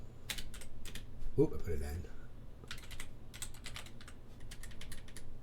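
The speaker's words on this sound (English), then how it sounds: "I typed in pizza." A computer keyboard clicks in quick bursts of typing, close and crisp, while a person speaks briefly in between.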